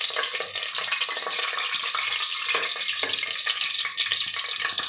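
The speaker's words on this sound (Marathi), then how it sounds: "आता हे आपल्याला चांगलं परतून घ्यायचं आहे" Cinnamon, bay leaf and cardamom sauté in hot oil for a curry, giving a steady, close bright sizzle with faint crackles throughout, and no voices.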